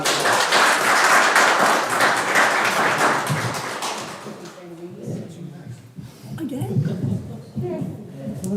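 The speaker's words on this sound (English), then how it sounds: "let's give our round of applause" Applause at a board of education meeting: dense, loud clapping fills the first few seconds, then fades out and gives way to people talking.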